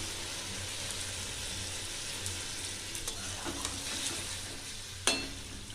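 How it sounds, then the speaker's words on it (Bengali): Vegetables, ridge gourd with potato and tomato, frying in a hot pan as water goes in: a steady close sizzle with light stirring scrapes and a sharp hiss burst near the end. "এবার আমি জল দিয়ে দিচ্ছি।"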